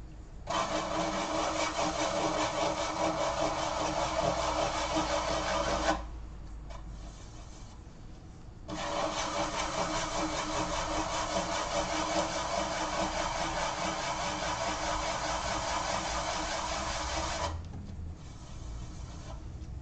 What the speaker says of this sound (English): I'll just take a little bit of sandpaper and run them off on the inside